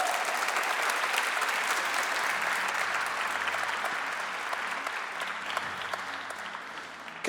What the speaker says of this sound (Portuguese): Aplauda Jesus pela vida deles